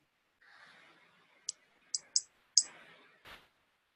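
Several crisp computer mouse button clicks, close and isolated: one single click, then a quick pair, then another, with faint breathy noise in between and no talk.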